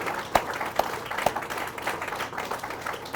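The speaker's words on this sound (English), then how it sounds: "Can we give him one more round of applause" An audience applauds at the Harris Hall college ribbon cutting, honoring Fred Harris with a round of clapping; a few sharp, close claps stand out early over the steady patter of the crowd.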